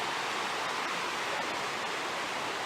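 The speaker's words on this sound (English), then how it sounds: "Creek is really roaring." A creek in a small wooded ravine roars after heavy overnight rain, a loud, steady rushing wash of water with no break, close by.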